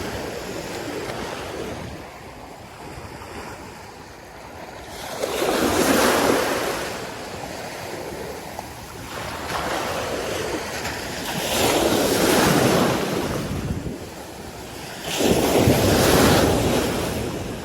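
Sea waves break on the shore in slow surges about every five seconds, each swelling into a loud rushing wash and then receding, with wind buffeting the microphone.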